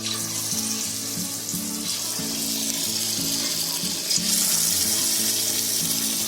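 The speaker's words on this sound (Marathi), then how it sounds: "आता आपल्याला हे पीस आहे ना आपल्या तेलामध्ये तळायचे आहेत." Chicken pieces fry in hot oil for a sweet and spicy chicken starter, a steady loud sizzle and crackle close by with a low rhythmic thumping underneath.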